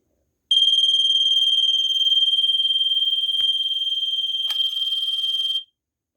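A TravelSafe 3402-00 portable smoke detector sounds a continuous shrill electronic alarm tone for about five seconds, loud and close, with a brief click partway through before it cuts off.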